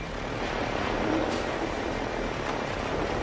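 Amplified recording of human brain electrochemical impulses, a dense continuous hiss and rumble like rushing static, steady and loud with faint swells.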